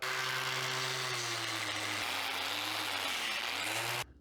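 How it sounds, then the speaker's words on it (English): A wire cup brush on an angle grinder stripping paint from metal before welding, a loud steady whine with harsh scraping that dips in pitch under load, then cuts off abruptly near the end. "Let's give the wire cup a shot. We need to strip the paint further back everywhere I need to weld."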